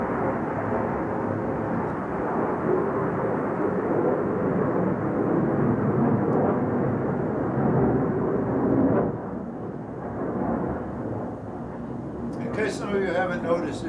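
F-16 fighter jets take off four at a time from a nearby air base, a loud, broad roar that rumbles on steadily, eases after a while, then continues more softly as a voice briefly cuts in near the end.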